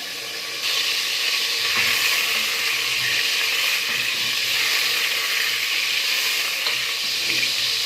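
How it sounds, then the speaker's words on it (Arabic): Chicken frying in a pan for a spicy red Algerian stew, a steady loud sizzle and crackle of hot oil close up, continuous throughout with faint stirring and no talk. "نخليه يتقلى مليح وندير البصل تاعي"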